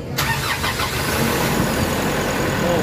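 A Nissan Calibre D32 starts after a no-crank, no-power fault is fixed: a sharp crank catches right away and settles into a loud, steady idle close by.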